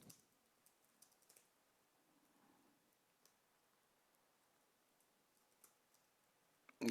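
Sparse, faint keyboard typing, a few scattered key clicks during a competitive computer game match, ending in a sudden loud burst.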